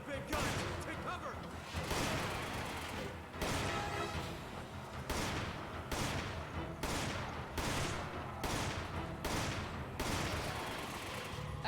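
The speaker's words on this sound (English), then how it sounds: "Looks like they're bringing out the big guns." Heavy gunfire in the Resident Evil 5 video game, dense bursts of rapid shots in long stretches broken by short pauses, loud and close, with voices talking over the shooting.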